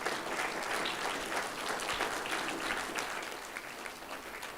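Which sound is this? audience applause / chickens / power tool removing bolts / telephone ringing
audience applause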